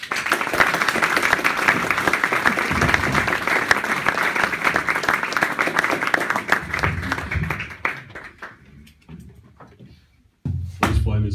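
An audience gives a band thunderous applause at a music venue, loud dense clapping with a few cheers that runs for several seconds, then thins and fades before a voice begins speaking.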